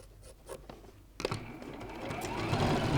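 A sewing machine runs stitching quilt fabric in a quilt-as-you-go log cabin block, starting after a short quiet pause with a steady whirring drone that builds in loudness toward the end.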